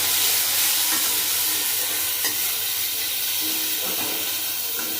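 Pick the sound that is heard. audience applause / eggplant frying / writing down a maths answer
eggplant frying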